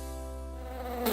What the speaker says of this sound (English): Honeybee.